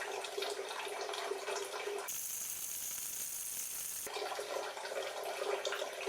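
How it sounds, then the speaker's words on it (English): Water running and draining into a sink, a steady hissing rush that shifts to a thinner, brighter tone for a couple of seconds before returning, no voices. "Water drains into the sink."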